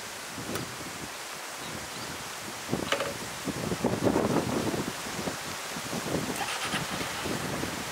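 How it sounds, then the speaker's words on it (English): Steady rustling of palm fronds shaken by strong wind on a cloudy day in Jeju, Korea, a dense rain-like hiss that swells and fades in gusts. "It sounds like raining, but it is just wind shaking palm leaves."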